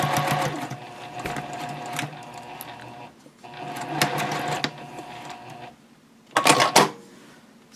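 Sewing machine stitching quilting lines on a baby basket project, running in sustained bursts with brief pauses between passes and a short, louder final run near the end; close and steady, with no talk.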